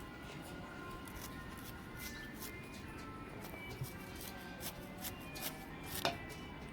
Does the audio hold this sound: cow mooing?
no